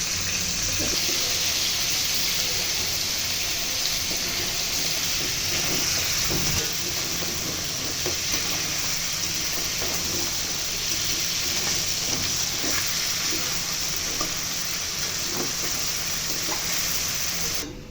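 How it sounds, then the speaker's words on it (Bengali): Magur catfish fry in hot oil over medium heat with a steady, unbroken sizzle and hiss that runs loudly throughout, with no talking. "তেল গরম হলে তেলের মধ্যে মাছগুলো ছেড়ে দিয়ে হালকা করে ভেজে নিচ্ছি"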